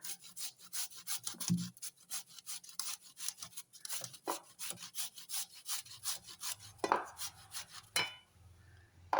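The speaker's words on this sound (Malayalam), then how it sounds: "ഇതണക്ക് നമുക്ക് എല്ലാം ഒന്ന് ചീകി എടുക്കാം" Raw tapioca is grated by hand in a home kitchen, with quick, rhythmic rasping strokes repeating steadily at close range and a few knocks between strokes.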